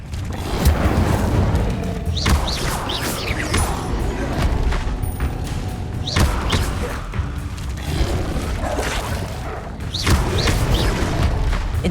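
Repeated fire spell casts in the game Hogwarts Legacy on hard mode, a series of booming, crackling bursts and thuds in quick succession amid combat, with a voice shouting over them.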